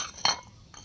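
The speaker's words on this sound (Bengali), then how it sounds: "থালে রাখবো না আমি, প্লেট সাজাবো" Plates being set out on a table for serving parathas at home, a single clear clink of crockery near the middle followed by a fainter tap, with no talking.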